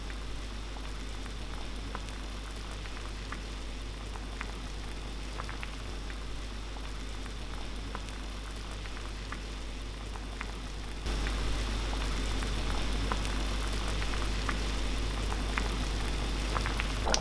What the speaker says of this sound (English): I've just started to boil it